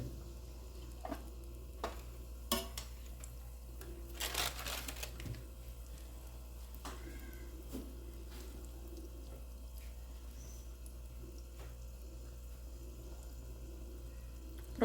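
Carrot-filled sonho doughnuts fry in hot oil over high heat, a faint steady sizzle with a few sharp clicks and pops from handling with tongs, no talking.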